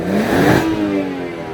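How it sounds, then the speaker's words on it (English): A 2018 BMW 640i Gran Turismo with 20-inch M wheels has its engine revved once, the pitch sweeping up and then easing back down in a single short, close burst. "I'll have Trish do some rev time"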